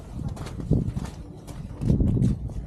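Horse hooves clip-clop on a trail near Kolsai Lake, several uneven steps close by with people talking over them.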